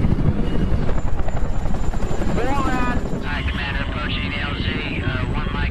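A helicopter flies with a loud, rapid rotor thump that fades partway through, leaving a higher whine while someone narrates over it.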